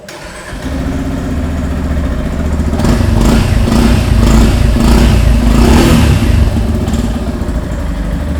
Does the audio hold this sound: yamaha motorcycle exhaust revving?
yes